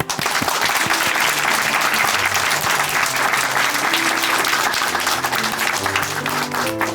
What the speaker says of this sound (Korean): 이때 정말 박수로 함께 응원해드려야 되지 않을까 싶습니다.